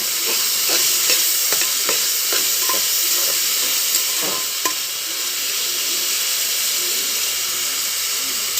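Carrots, beans and tomatoes sauté in a pan for vegetable kurma, a steady close sizzle and hiss under repeated spoon stirring scrapes.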